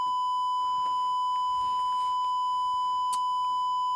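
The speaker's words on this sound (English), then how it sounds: "a triangle wave" A steady electronic triangle wave tone from a Korg NTS-2 holds evenly throughout, faint and continuous, sounding alone.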